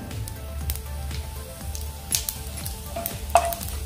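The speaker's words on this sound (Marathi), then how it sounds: "आता आपण यामध्ये 1 टीस्पून जिरं घालून घेऊया।" Cumin seeds sizzling in hot oil in a pan while cooking karlyachi bhaji, a close, crackling fry with rhythmic stirring scrapes and a few sharp pops.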